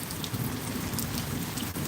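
A thunderstorm with heavy rain, a dense, steady roar of rainfall under low rumbling thunder, with no talk.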